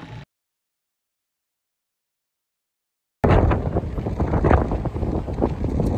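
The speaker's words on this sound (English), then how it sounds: "Very windy day." Strong wind at sea on a rough day aboard a ship, a loud, steady roar that cuts in abruptly after several seconds of silence and continues buffeting the microphone.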